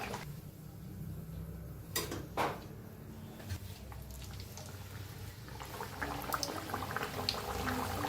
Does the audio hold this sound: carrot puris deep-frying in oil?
yes